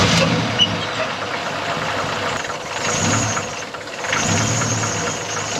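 The engine of a 1994 Ford F-150 idles steadily with its radiator hose dropped and air working through the block, a continuous mid-pitched rumble that swells and dips slightly.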